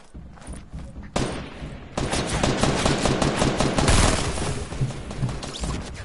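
Rapid bursts of automatic gunfire from the video game Fortnite, loud and continuous after a brief quieter opening, with dense repeated shots and no clear talk.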